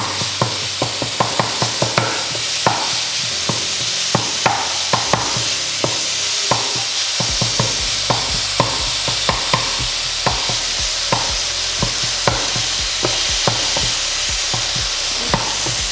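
Ground meat with half a teaspoon of cumin fries in a pan while a utensil breaks it up, steady scraping and tapping strokes in a quick rhythm over a continuous loud sizzle.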